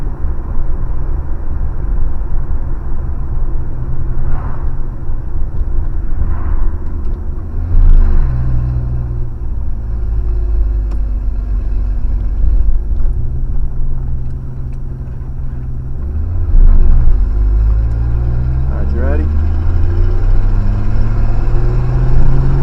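A DIY budget hot rod car driving, its engine a loud low rumble that rises in pitch, drops, then climbs again as gears change, heard from inside.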